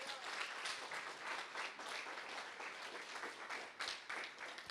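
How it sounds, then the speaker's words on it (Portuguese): A church congregation gives a steady round of applause, a continuous wash of many hands clapping that sounds quiet and somewhat distant, with a faint voice mixed in. "Vamos dar um aplauso à palavra de Deus."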